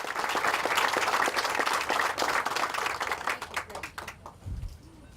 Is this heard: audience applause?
yes